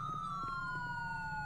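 A steady, wailing police siren in the video game FiveM, slowly falling in pitch and sounding continuously over a low hum, with no talking.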